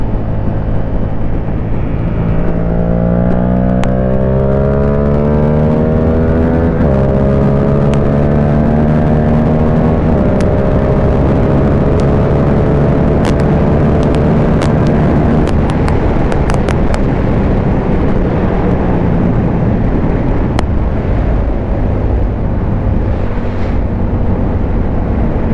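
A Yamaha R7 motorcycle engine drones loud and steady for the whole stretch, its pitch climbing and falling through gear changes, with scattered sharp crackles from the exhaust in the middle.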